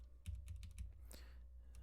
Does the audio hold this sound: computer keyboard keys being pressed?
yes